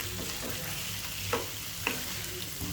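Chicken with green chillies fries in a large pan over a high flame, a steady close sizzle broken by a couple of sharp scrapes as the mix is stirred.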